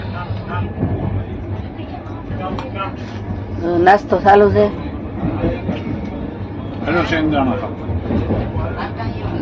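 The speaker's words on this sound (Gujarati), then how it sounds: "હાલો હવે ટ્રેનમાં આપણે જઈશું ઉજ્જૈન" Train ride toward Ujjain: a steady low rolling rumble of the moving carriage runs throughout, with people chatting over it and a louder burst of voices partway through.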